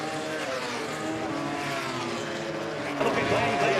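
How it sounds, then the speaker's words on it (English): A superbike engine roars steadily during a race at Donington Park, loud and continuous, swelling near the end, with a commentator talking over it. "the engine's still going."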